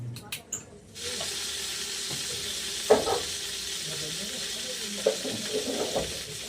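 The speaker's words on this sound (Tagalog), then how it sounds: "Yan na tayo po magigisa na. Sibuyas at bawang." Onion and garlic sautéing in a pan, a steady broadband sizzle that starts after a second of clattering and runs on, with a couple of louder pops and stirring scrapes close by.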